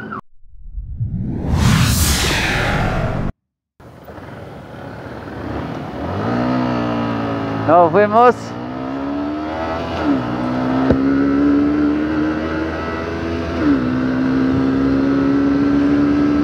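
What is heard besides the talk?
Yamaha R15 V2 motorcycle accelerating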